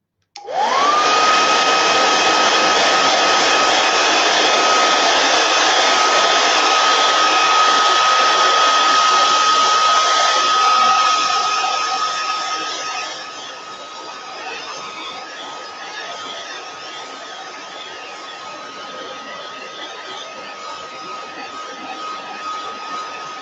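A hair dryer switches on and blows with a loud, steady whine, then drops to a lower setting and keeps running.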